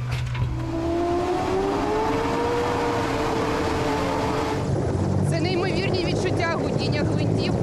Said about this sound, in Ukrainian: Зараз ми відправляємо на чергове завдання екіпаж гелікоптеру «Мі-8».